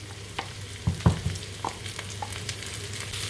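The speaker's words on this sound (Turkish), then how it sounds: "Bunlardan da hafif kavuracağım." Soft sizzling of green onions sautéing in a pan with a few light scrapes and taps of stirring, quiet and close.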